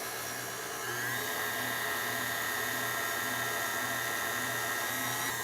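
An electric hand mixer runs steadily on low speed, blending unsweetened cocoa powder into a bowl of cookie batter, a continuous close whirring motor drone with no talk.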